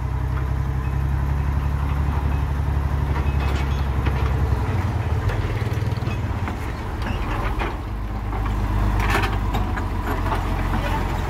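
A sugarcane rail wagon (lori) reverses along a narrow track during a recovery after a wagon fell into a river, giving a loud, steady low engine rumble with clanks and rattles throughout, easing briefly midway.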